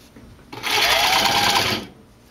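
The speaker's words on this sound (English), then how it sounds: "trying to cover stitch right down the center" A cover stitch machine runs a short, steady burst of stitching, sewing binding folded around a seam down the center of a tank top; the motor whirs loud and close for about a second and a half, then stops.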